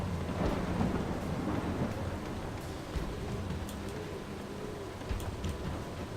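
Steady rain pours with low rolling thunder in the Torchlight 2 video game, a dense continuous wash of downpour and rumble with occasional sharper cracks, no voices.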